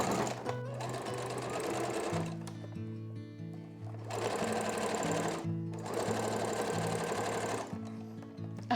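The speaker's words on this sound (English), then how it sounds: "I start by doing a back tack stitch." Sewing machine running a back tack stitch on stretchy elastic for a top, with loud, steady motor whirring in long continuous runs broken by brief pauses, close up and alone.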